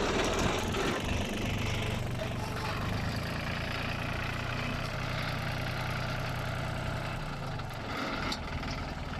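A used 35 hp Yanmar tractor engine runs loud and close, a steady low rumble that holds through the whole stretch with slight swells as it is revved.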